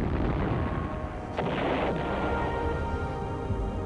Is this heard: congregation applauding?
no